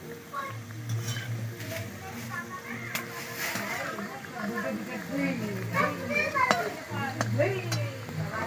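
Dal puri frying in lightly heated oil, a soft continuous sizzle with occasional utensil clinks, heard beneath ongoing talk and a voice in the background.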